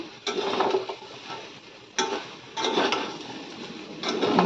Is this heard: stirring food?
yes